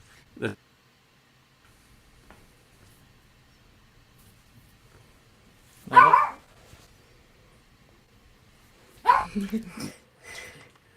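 A dog gives a few sharp barks in three separate bursts with near silence between them, heard close indoors.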